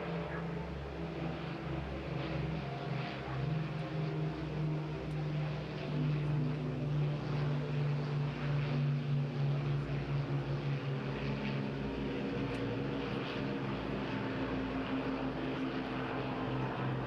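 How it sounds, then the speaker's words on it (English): Avro Lancaster PA474, a four-engine propeller bomber, drones overhead at the Bournemouth Air Festival, a sustained throbbing roar of piston engines that holds steady and rather distant for the whole stretch, with no voices. "We are very proud to have Lancaster PA474 based at Coningsby in Lincolnshire"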